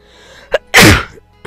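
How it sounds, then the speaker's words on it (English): A single loud, close sneeze bursts out after a short breathy intake, with brief quiet sounds before and after. "And I did sneeze."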